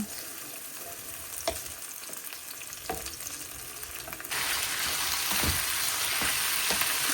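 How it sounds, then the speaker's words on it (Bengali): Food fries in oil in a pan, a continuous sizzle with scattered spatters and scraping stirs, growing noticeably louder and hissier halfway through, close and with no voices. "এখন এটা খালি ভাজবো আর ভাজবো এনাফ তেল আছে"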